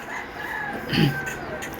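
A rooster crows in the distance, a stretched cry with a brief louder cluck from a nearby Peruvidai cross country chicken in the middle.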